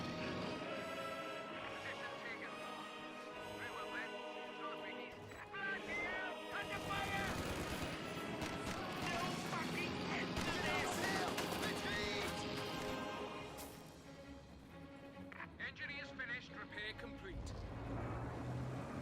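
Machine gun fire from Vickers and MG42 emplacements in a Company of Heroes 2 battle, dense continuous bursts layered under game music and effects while a caster talks throughout.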